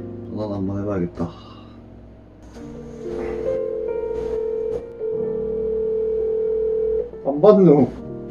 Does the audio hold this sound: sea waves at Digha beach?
no